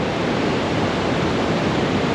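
A steady, loud roar of rushing white water, dense and unbroken throughout, like a churning river heard from close by beneath a bridge in Fiordland, New Zealand.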